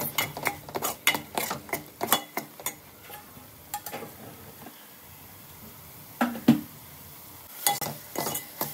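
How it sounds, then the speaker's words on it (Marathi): Masala for mutton being roasted in a pan, with a spoon clinking and scraping in quick, uneven strokes, falling quiet for a stretch before a few more sharp knocks and stirs. "तर या मसाल्याला आपण एकदम छान खमंग भाजून घेऊया."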